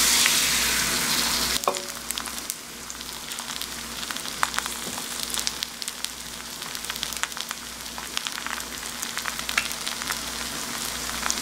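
Kelp pancake batter, made with leftover kelp from stock, fries in a little oil in a pan with a steady close sizzle and crackle. No one speaks over it.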